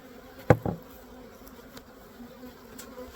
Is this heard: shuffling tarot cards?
no